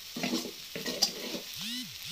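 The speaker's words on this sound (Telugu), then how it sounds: "కనిపిస్తుంది కదా బెండకాయ ఫ్రై అయితే ఇంకొక 2 మినిట్స్ అలా మగ్గనిద్దాం." Okra frying in a pan while being stirred, with intermittent scraping strokes over a soft sizzle and a light utensil clink, fairly quiet and close.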